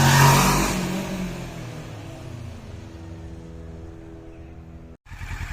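A Kawasaki Versys 650 motorcycle engine revs up hard in a parking lot and then settles into a steady, buzzing drone that fades slightly before a sudden cut-off and restart.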